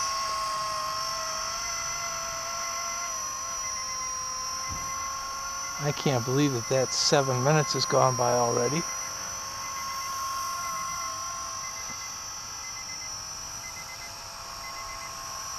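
A Blade 200S RC helicopter, recently crashed and repaired, hovers with a steady high-pitched whine and buzzing rotor drone throughout, while someone talks briefly near the middle.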